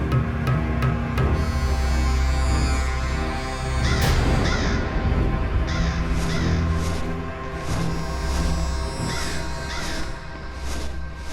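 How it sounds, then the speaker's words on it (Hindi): A crow caws repeatedly in loud, close, harsh calls, several in quick succession and then spaced out, over a low steady hum with no talking. "खोदा पहाड़ और निकला कौआ।"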